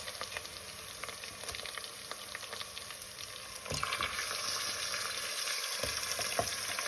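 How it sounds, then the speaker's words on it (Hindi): Chicken pieces fry in a pan with garlic, ginger and green chili paste, giving a continuous sizzle that grows louder midway, with occasional stirring scrapes and clinks. "चिकन को हमने फ्राई करना है तकरीबन 1 से 2 मिनट"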